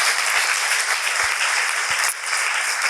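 An audience at a business and philanthropy conference gives the speakers a short, steady round of applause lasting about three seconds, dense and even with a few low thumps, no voices over it.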